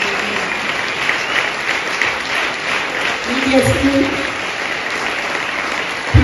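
A church congregation applauds, a broad, continuous wash of clapping from many hands, with a voice speaking over it.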